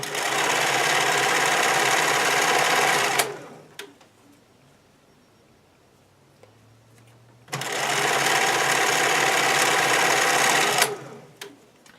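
A sewing machine stitches stretchy swimwear fabric in two steady, loud runs of about three seconds each, separated by a quiet pause.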